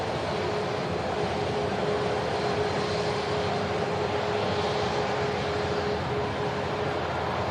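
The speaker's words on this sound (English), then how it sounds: "Stunning aircraft on the taxi out here, ladies and gentlemen. Virgin Atlantic. Airbus A380" A Virgin Atlantic Airbus A380 taxis at Manchester Airport, heard as a steady, broad jet-engine whine and rumble with a faint thin tone, moderately distant and unchanging throughout.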